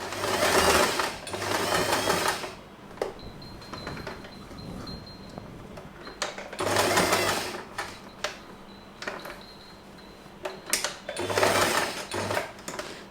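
A sewing machine stitches the overlapped elastic band of a long-tail scrunchie in three close, loud bursts of rapid whirring, separated by quieter stretches of handling and small clicks.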